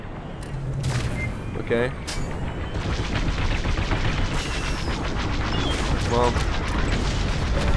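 Star Wars Squadrons space combat: continuous blasts, laser fire and explosions from the game fill the scene, with someone speaking briefly over the dense barrage.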